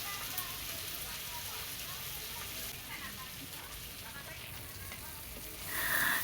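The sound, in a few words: frying spice paste with tomato and turmeric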